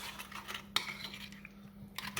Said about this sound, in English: Give it a good mix.